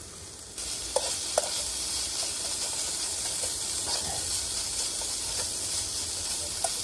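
Spicy mince browns in a pan outdoors, a steady broad sizzle with occasional faint scrapes and clicks of stirring, close and continuous with no talking.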